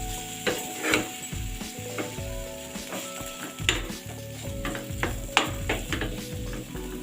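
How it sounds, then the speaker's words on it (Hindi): A mung dal filling fries in a pan as it is stirred and mixed, with a soft sizzle broken by repeated scraping and knocking strokes of a spoon against the pan. "मैंने दाल ऐड कर ली है, दोनों को मिक्स करेंगे।"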